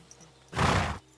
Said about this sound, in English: I don't want to run you over on the horse